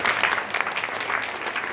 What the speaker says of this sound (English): can we give Simon a big round of applause first of all?